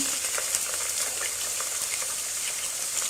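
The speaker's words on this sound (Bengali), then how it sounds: "পেঁয়াজটা একটু নেড়ে দিতে হবে।" Onions sizzle in a frying pan while being stirred, producing a soft, even hiss with faint scraping throughout.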